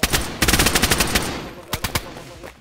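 Rapid bursts of gunfire from the survival game DayZ, a dense volley up front followed by a few sharp separate shots after a pause, loud and close with no talk over them.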